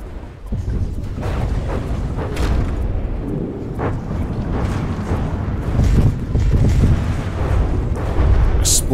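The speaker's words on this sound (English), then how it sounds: "Explosion on the Spartacus lifts it out of the water." A warship explodes during a video game naval battle, rumbling heavy blasts and booms rolling on for several seconds in a loud, dense roar.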